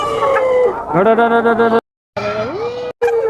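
Chickens on a poultry farm crowing and clucking loudly and close by, two long bursts of harmonic calls broken by short silences.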